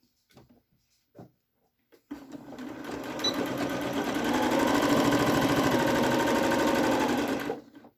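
A few quiet clicks give way to a sewing machine running a steady stitch across the top of a fabric pocket mask, its fast rhythmic whir holding for about five seconds before stopping.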